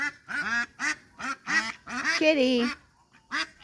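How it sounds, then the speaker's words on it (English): Agitated ducks quack repeatedly at close range while a woman calls out over them, the honking calls mixing with her speech. "You're making the ducks upset too."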